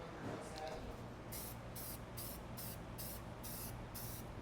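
Short hissing bursts of a spray can repeat in a steady rhythm, about six sprays, over a low background hum.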